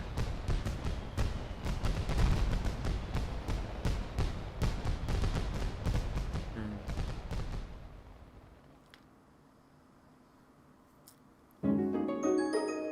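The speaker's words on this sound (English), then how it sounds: "Fireworks now instead of nukes." Fireworks in Ni No Kuni 2 go off in a dense run of sharp cracks and thumps that thins out and fades to near silence, followed by a brief chiming musical passage.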